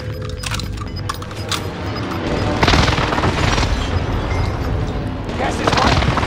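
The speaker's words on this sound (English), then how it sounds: "Enemy precision airstrike." Enemy precision airstrike explosions pound a video game battlefield, with heavy booms and crackling blasts layered over continuous battle noise, several impacts swelling loud near the middle and end.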